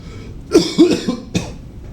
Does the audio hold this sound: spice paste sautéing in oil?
no